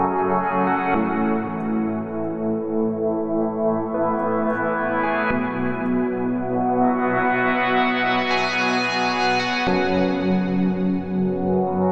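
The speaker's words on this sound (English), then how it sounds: "Maybe we can also add a little bit of a touch of reverb." A synth pad in Bitwig sustains layered, chorused chords with a Valhalla room reverb adding a soft wash, loud and continuous, no voices.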